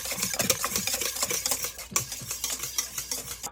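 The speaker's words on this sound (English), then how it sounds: "add 2 teaspoons of vanilla ester into the white ingredients and whisk it into them until combined" Vanilla extract whisked into white cake batter ingredients in a bowl for a white chocolate raspberry mousse cake: rapid, continuous rhythmic clicking and scraping of the whisk, close and fairly loud, with no talking.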